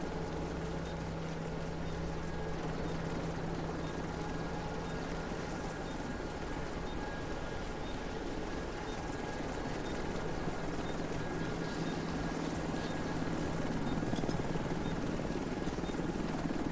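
A helicopter arriving for extraction in the Division 2 video game gives a steady, loud rotor and engine roar that continues unbroken throughout, with a low sustained hum underneath.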